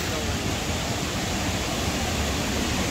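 Kuang Si waterfall near Luang Prabang, Laos, pours in a dense, loud, unbroken rush of falling water.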